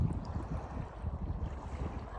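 Choppy waves slapping around a kayak on rough water, a steady churning wash with wind buffeting the microphone, no talking.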